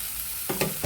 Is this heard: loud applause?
no